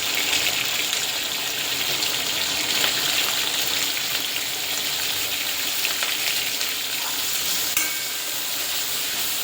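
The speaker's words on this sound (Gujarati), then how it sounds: "અને 2 મિનિટ માટે ફ્રાય કરીશું।" Vegetables with turmeric fry in a pan for a Gujarati tandoori-style dish, a dense, steady sizzle with occasional stirring scrapes, close and continuous without talk.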